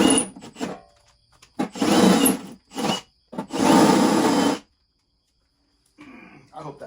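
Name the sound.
drilling a hole in an RV bumper grill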